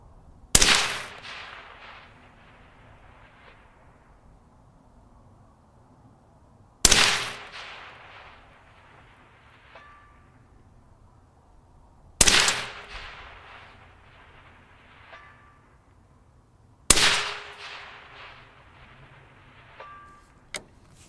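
Four sharp rifle shots from a Mk12 Mod 0 SPR, evenly spaced about five seconds apart, each with a loud crack and a long trailing echo on an outdoor range, with faint metallic clinks between shots.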